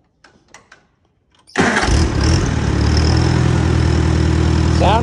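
After a few faint clicks, an Allis Chalmers D-14 tractor engine fresh from ignition service cranks and catches abruptly, then settles into a loud, steady, even idle close by.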